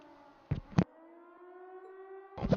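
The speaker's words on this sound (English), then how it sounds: "It sounds like a siren. It seems to be coming from the fort." A civil-defense-style siren wails from a fort in the video game The Legend of Heroes: Trails of Cold Steel, a steady rising tone with harmonics, broken by a few brief thuds.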